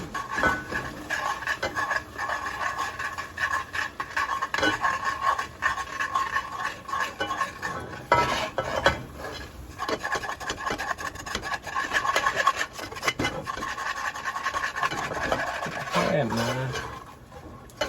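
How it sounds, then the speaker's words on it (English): Broth is poured into a pot of Louisiana-style shrimp and corn soup and stirred in, giving a steady, close scraping and swishing that runs without a break, with brief louder scrapes along the way. "So I'm going to go ahead on and start adding this broth in."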